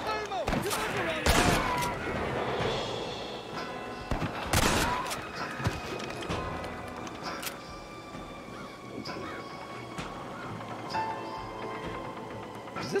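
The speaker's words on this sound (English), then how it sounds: "Is this why we built the wall to stop all this gunfire?" Gunfire from the Red Dead Redemption video game cracks in sharp, scattered shots and bursts, some loud and close, others fainter, over a busy game soundscape.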